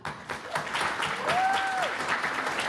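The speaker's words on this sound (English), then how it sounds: "So a huge applause to all of you." A crowd at a CHOC Walk charity event claps for the walk participants, with sustained, moderately distant applause swelling slightly and a brief tonal whistle-like sound rising through the middle.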